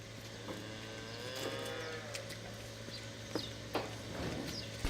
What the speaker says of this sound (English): Suddenly, the cows and calves come out and start jumping around the yard in excitement